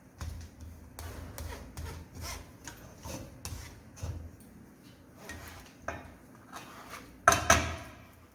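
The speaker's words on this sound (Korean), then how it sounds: "체에다가 이렇게 감자를 내려주시고" Cooked potato being pressed and scraped through a sieve for a smooth cream curry udon base, giving repeated soft rubbing, rasping strokes close up with a few louder metallic scrapes near the end.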